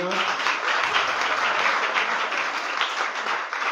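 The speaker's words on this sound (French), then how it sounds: "acclamez-vous pour ces parents" A church congregation at a Sunday service applauds, a continuous dense patter of many hands clapping at moderate distance with a slight swell, lasting the whole moment without pause.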